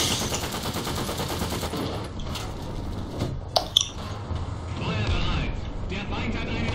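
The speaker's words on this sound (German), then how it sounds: "Der Spawn wird beschossen." Gunfire in a War Thunder tank battle, with the KV-1B near a spawn point under fire; a few sharp cracks stand out over a dense, rumbling game mix, and someone is talking.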